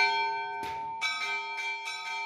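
Church bells ring outside a temple in Jerusalem during Holy Thursday Easter services, several bright clangs in an uneven sequence over a sustained ringing hum, with no voices.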